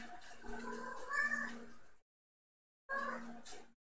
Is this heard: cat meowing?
yes